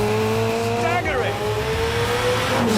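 A McLaren 720S sports car accelerates hard, its engine note climbing loud and close over a few seconds as someone speaks over it.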